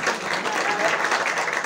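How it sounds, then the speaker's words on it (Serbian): Audience members at a stand-up comedy show clap in a steady burst of applause, moderately loud and sustained, with a few voices mixed into the crowd. "Dajte aplauz za ženu"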